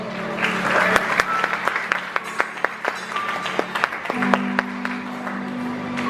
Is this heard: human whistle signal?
no